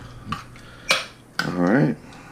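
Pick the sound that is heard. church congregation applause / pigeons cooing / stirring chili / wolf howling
stirring chili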